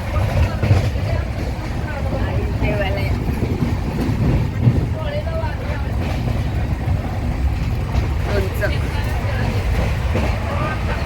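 Steady low rumble and rattle of a moving passenger train travelling from Miraj to Delhi, continuous throughout, with faint chatter and background voices of passengers sharing lunch on board mixed in.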